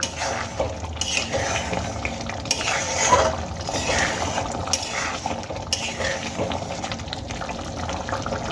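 A spoon stirs pea dal in a pot after sugar is added, with wet sloshing and repeated metallic scrapes and clinks against the pot, close and fairly loud.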